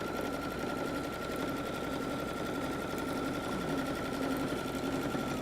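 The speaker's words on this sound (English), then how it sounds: "Just put it in my machine. A back stitch. Sew down the length of the fold." Sewing machine running a back stitch down the length of a fold in fabric for a messenger bag: steady, rapid mechanical chatter at even speed, close and continuous, with no voices.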